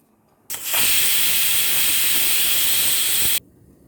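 A pressure cooker with country chicken curry inside vents steam in one loud, steady hiss that starts abruptly, runs for about three seconds near the microphone and then cuts off sharply.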